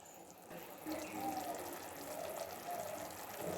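Water pours from a tap into a cooking pan, a soft continuous gushing and splashing that stays quiet and close for a few seconds.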